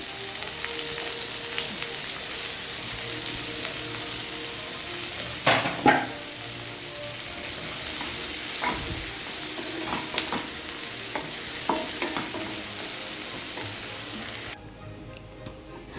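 Steady sizzling of onions frying in hot oil, with occasional stirring clinks and scrapes throughout, ending abruptly near the end.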